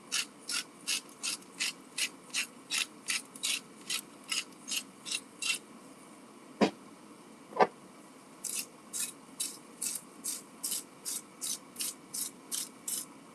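A grinder cranks out roasted pepper and garlic seasoning in a quick, even run of ratcheting clicks that pauses for two louder knocks, then resumes, close and alone.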